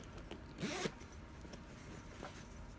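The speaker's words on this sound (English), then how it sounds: "when you're done, you put separating zipper" A pink separating zipper on a fabric craft carry-all bag is pulled in one quick zip near the start, with faint rustling and handling afterward in a quiet room.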